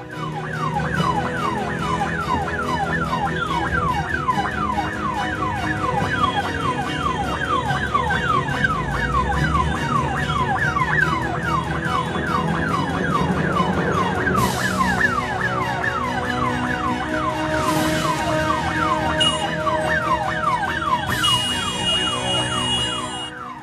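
An ambulance siren wails continuously in dense city traffic behind a police officer running ahead to clear the road. Loud traffic noise and a few short horn blasts sit under the siren's steady rising and falling sweeps.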